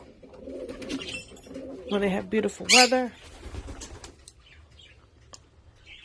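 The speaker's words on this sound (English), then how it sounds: "This is our pigeon coop." Rescued pigeons in a coop in Florida make soft coos and brief wing flutters close by, while a person talks over them.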